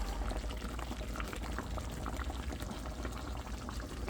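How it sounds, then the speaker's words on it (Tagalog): Steady bubbling and rolling boil of liquid in a pot for pork asado, a dense continuous gurgle with small pops, close by and with no voices. "kumukulo na guys, bubukal na"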